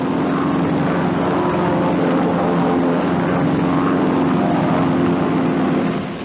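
North American T-6 Texan trainers fly in formation, a loud, steady propeller drone with a low engine rumble that holds constant and eases off slightly at the end, with no voices.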